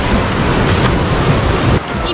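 Sea waves splashing against the rocky Gozo coastline on the walk from San Blas to Ramla Bay, a dense steady wash of surf with wind noise on the microphone, loud and close throughout.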